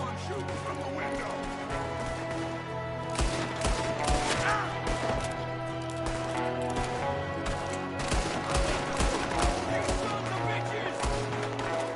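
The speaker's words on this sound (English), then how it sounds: "There's another one shooting from the window." Gunfire in the Red Dead Redemption 2 video game: dense volleys of sharp shots crack out repeatedly over a steady in-game background of hooves, crashes and music, with character voices speaking between and under the shooting.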